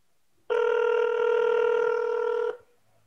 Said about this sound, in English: We can still hear the phone ringing.